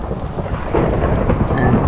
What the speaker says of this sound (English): there's a bit of a storm